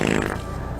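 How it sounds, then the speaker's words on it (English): Short prank fart noise, a brief close buzzing rasp that tapers off within a second. "Sound like somebody's farting."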